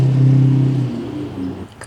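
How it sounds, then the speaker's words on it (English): A loud truck engine rumbles close by along a road, its low steady drone holding strong for most of the moment before easing off, with a brief higher rattle at the end. "what is up with these loud trucks?"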